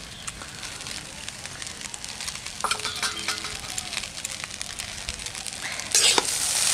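Fried eggs go into chow mein in a pan for restaurant-style chicken noodles, with steady sizzling and crackling, occasional clinks of a utensil, and a louder burst near the end, under a speaking voice.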